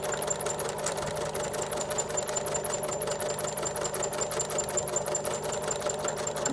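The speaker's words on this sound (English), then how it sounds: "Good back stitching here again." A sewing machine back stitches steadily through fabric while sewing a face mask, a continuous close mechanical whir with a fast even needle rattle and no pauses.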